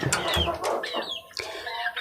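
A chicken clucks repeatedly up close, with short throaty calls over a busy farmyard background.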